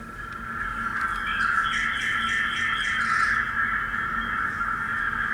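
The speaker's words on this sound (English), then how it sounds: "Do you hear the birds chirping?" Continuous high chirping and squealing calls from several birds, fairly steady throughout against a soft outdoor background at the Vivanta by Taj hotel.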